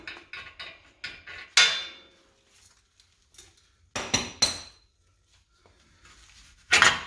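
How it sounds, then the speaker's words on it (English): Sharp metallic hammer blows ring out on a steel suspension part of a Ford F150 pickup: a quick run of light taps, then a heavy strike, a cluster of hard hits, and a final loud clang. "if you smack it right there with a hammer, if it's not coming out, it just pops up"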